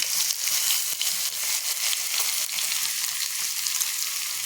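Garlic frying in oil over a low flame, cooking for a tamarind chutney: a steady, close, even sizzle with soft crackles running throughout, no voices.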